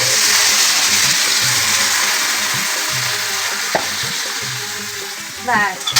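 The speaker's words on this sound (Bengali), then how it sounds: "আর সোয়াবিন তরকারিটা কিন্তু হয়েই আসছে এখন ঝোল দিয়ে দিব কষানো হয়ে গেছে" Soybean curry sizzles steadily in a pan while being stirred, with scraping strokes and a few sharp clinks near the end, close and loud throughout.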